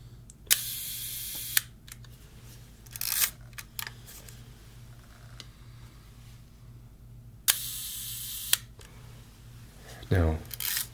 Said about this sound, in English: Doing some long shutter exposures